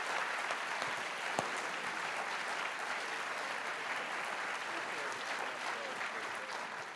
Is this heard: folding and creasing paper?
no